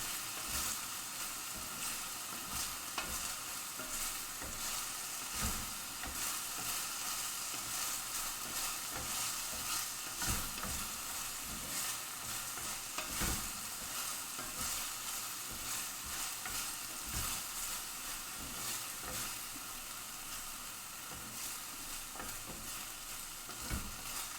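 Vegetables and onion sautéing in a pan, a continuous dense sizzle with scattered stirring scrapes, steady and close throughout.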